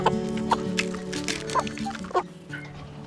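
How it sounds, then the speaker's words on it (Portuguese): Chickens clucking close by while fed whole corn, with soft pecking and scattered taps over a low humming background. "jogando o milho inteiro para as galinhas"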